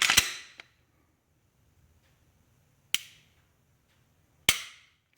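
A Glock 19 fitted with an OC Customs trigger, spring kit and connector is dry-fired several times, each pull a sharp, close metallic snap, with irregular gaps of quiet between clicks.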